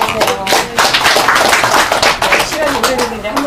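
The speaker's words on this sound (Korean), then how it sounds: "같이 박수 한번 해주세요." An indoor audience at a gathering claps together in a dense, continuous patter of hands, fairly close and loud, with a voice speaking over the clapping.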